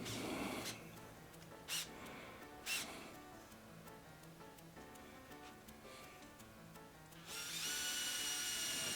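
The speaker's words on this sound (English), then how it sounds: "And we start drilling with the 1/4 bit." A power drill with a 1/4-inch bit bores steadily into a metal tube with a whining hum and a few sharp bursts, growing louder and harsher near the end.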